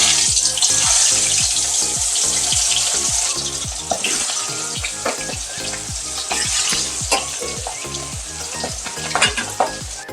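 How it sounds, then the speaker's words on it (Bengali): Aar fish pieces fry in hot oil in a wok, making a loud, close, crackling sizzle with spitting pops. A rapid rhythmic low thumping or rattling runs steadily underneath, and no one speaks. "আর মাছগুলো আমি ঢেকে ঢেকে ভাজবো"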